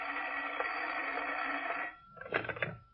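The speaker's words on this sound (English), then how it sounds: "and then the phone rang" A telephone rings as a sound effect in an old-time radio detective drama, with a steady, sustained ring for about two seconds followed by a shorter, choppier burst.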